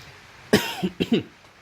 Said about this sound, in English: Excuse me, a bit of a cough.